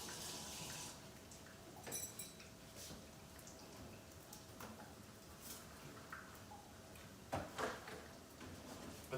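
Running tap water pours steadily as spoons are rinsed in a kitchen sink while preparing cheeseburger egg roll filling, a continuous low wash with a few faint clinks.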